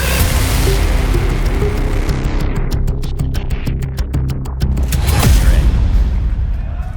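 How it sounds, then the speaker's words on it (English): A grenade explodes in a professional Counter-Strike match at a BLAST.tv Austin Major 2025 game, a loud booming blast amid continuous gunfire and heavy game noise that stays dense throughout, with a rapid burst of shots in the middle. "Zywoo's gonna eat that grenade for 40 damage"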